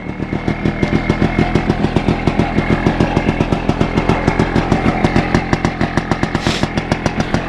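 A WSK 125 motorcycle's two-stroke engine runs steadily at a fast idle, close and loud, with a rapid even popping pulse throughout and no talk.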